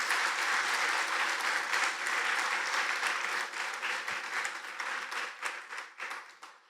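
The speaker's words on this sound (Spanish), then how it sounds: "Un aplauso para Sarita." A church congregation claps for a woman named Sarita after her testimony, with brisk, dense applause that starts strong and gradually thins into scattered individual claps as it fades.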